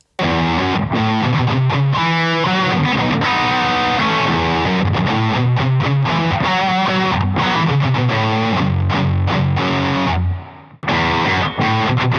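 An electric guitar played through a Klone or TS-style overdrive pedal gives a loud, continuous, driven run of chords and notes with sustain, briefly pausing near the end.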